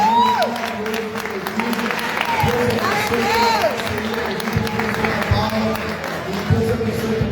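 Audience at a charity event gives a round of applause, clapping and some cheering heard fairly close, mixed with overlapping voices talking over it, and a few whistles rising through the middle.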